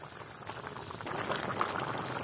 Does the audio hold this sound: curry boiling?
yes